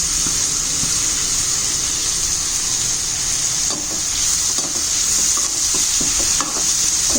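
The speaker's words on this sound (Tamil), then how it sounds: "வெங்காயத்தை போட்டுடுறேன் இதுலயே இப்போ நம்ம பூண்டு பச்சை மிளகாய் எல்லாத்தையுமே போட்டு வதக்க வேண்டியதுதான்" Onion, garlic and green chilli sauté in hot oil, with a loud, steady sizzle and hiss up close and scraping stirs of a spatula breaking through now and then.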